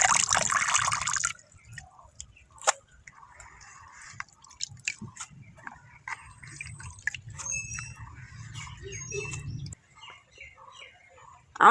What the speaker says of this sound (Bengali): ভালো করে কচলে কচলে ধুয়ে নিতে হবে